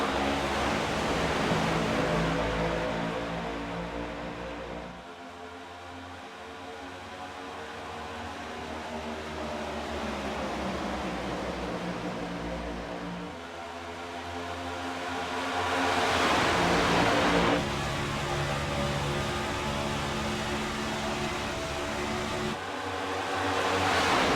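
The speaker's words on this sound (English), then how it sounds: "Let's hear these cars roar." Race cars roar together at the Clash at Daytona, a sustained loud wash of engine noise that swells and fades as the pack passes, with no voices.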